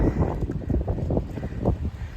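Strong storm wind during Storm Darragh in Melbourn, buffeting the microphone with continuous low rumbling gusts that rise and fall throughout.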